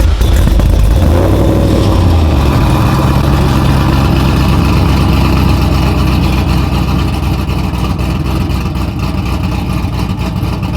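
A car engine fitted with Borla long tube headers and a Borla catback touring exhaust rumbles loudly at idle after a brief rev at the start, a deep steady drone close by.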